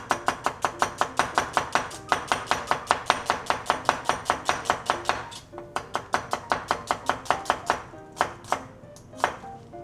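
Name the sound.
knife slicing onions thinly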